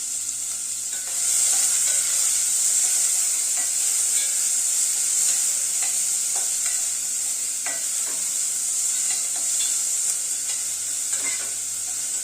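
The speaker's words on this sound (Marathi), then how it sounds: "त्यासाठी सर्वप्रथम तेलामध्ये मी कांदा घालते." Onion frying in hot oil as the first step of a masala paste for dhaba-style Veg Kolhapuri gravy, a continuous close sizzle and hiss with occasional stirring scrapes and no talk.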